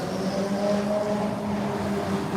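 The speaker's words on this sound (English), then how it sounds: "it's loud car and motorcycle time at the org here" A loud engine drones steadily and close by throughout, a low humming roar with a constant tone, consistent with a passing car or motorcycle.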